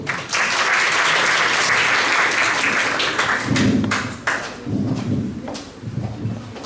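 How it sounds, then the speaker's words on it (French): Applause from the audience at a national science-communication final, welcoming a speaker: a loud burst of many hands clapping that fades into scattered, uneven claps with a few thumps near the end. "sous vos aimables applaudissements, s'il vous plaît"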